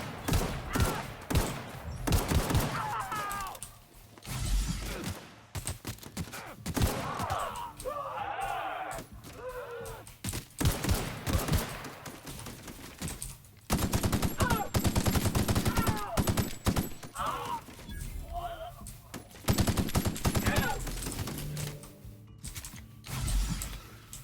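Gunfire in The Outer Worlds video game, bursts of rapid shots broken by gaps, mixed with clanking mechanical noises and faint voices, loud at moments and quieter between volleys.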